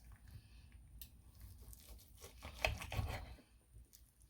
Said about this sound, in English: Let's cut into this beautiful, beautiful tenderloin.